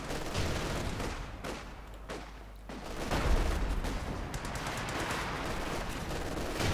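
German Feldhaubitze light artillery firing in the Company of Heroes 2 strategy game, a dense barrage of booms and crackling gunfire blending into a continuous roar of battle.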